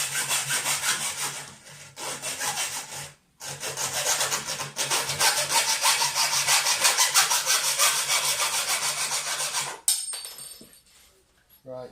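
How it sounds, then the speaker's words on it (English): Hacksaw cutting through a metal bar from a zebra blind, loud close rhythmic back-and-forth rasping strokes repeated steadily for several seconds, a brief pause, then the stroke stops and a few faint clinks follow. "Then I'm going to run my hacksaw through it."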